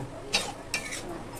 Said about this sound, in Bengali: গরম মশলাটা দিয়ে নেড়ে চেড়ে নিলাম।